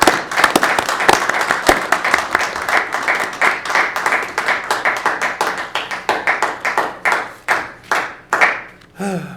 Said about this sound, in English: If you believe that, please clap with me.